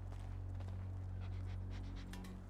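A dog named Chop panting in the video game GTA 5, quick rhythmic breaths close by over a constant low engine-like hum.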